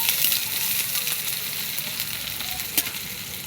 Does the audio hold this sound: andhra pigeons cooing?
no